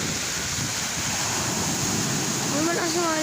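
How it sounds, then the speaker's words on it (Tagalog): Strong ocean waves wash and surge in a constant loud roar near the shore, with wind noise, and a voice speaks briefly near the end. "May malakas yung alon, ayun o."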